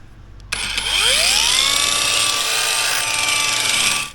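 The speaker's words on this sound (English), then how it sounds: "I don't have the pipe scissors, so I'm gonna try to cut with this angle grinder" Parkside Professional angle grinder cutting through a pipe: a sharp spin-up into a loud, steady high-pitched whine that holds for about three seconds before cutting off, close and alone.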